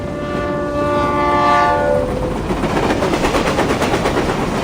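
A video game train in Reverse 1999 rolls past with a sustained horn-like tone at first, then steady rhythmic clattering of wheels on rails.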